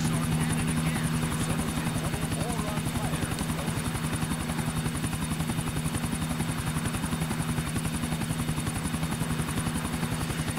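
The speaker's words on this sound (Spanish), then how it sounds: "Lo rápido que es el helicóptero no tiene sentido, ¿eh?" A helicopter in Grand Theft Auto IV flies with a steady, loud rotor chop and a constant engine drone that fills the whole stretch without a break, while a speaker talks over it.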